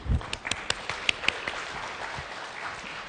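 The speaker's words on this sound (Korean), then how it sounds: "뜨거운 박수" Warm applause at a business breakfast meeting as a company vice president is invited up, a steady patter of clapping from a seated audience with a few sharper individual claps standing out.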